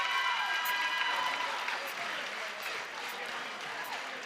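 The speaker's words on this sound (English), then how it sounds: "I just kind of wanted to let everybody listen at the crowd noise and everything else." Crowd roar in a high school boys' basketball gym after a player's 1,000th point, a sustained broad wash of cheering and applause that fades gradually, with a few whistles over it.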